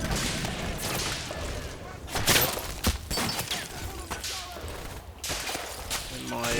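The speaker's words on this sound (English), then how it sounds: "bam, 75mm gun opens up into the building." A 75mm gun blasts into a building amid combat in the Combat Mission Normandy wargame, dense rolling explosions and gunfire crackling continuously with several heavier impacts, loud and close throughout.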